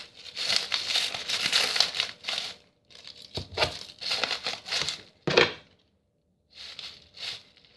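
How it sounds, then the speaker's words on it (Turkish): Plastic crinkles and rustles in bursts close by, with short pauses between handfuls of bag being stuffed and squeezed. "Tüm poşetleri dolduralım."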